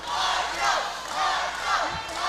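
Crowd at a kids and teens grappling match cheering and shouting in a steady, dense roar with swelling waves of yelling, loud and continuous throughout.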